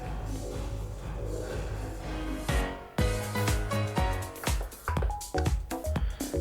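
An electronic DJ mix on a Pioneer DDJ-SX2 controller with pounding beats, where the drum hits suddenly ring out with a lingering reverb tail that washes between them.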